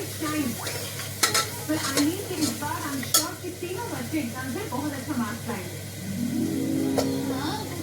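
Mung bean curry tempering sizzles and crackles in a pan while being stirred, with intermittent scraping of a utensil and someone talking over it.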